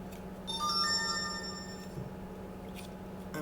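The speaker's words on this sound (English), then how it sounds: "I should have cut my phone off, I'm sorry." A mobile phone ringtone sounds indoors, a bright melodic electronic tone running for about a second and a half before cutting off, over a steady low background hum.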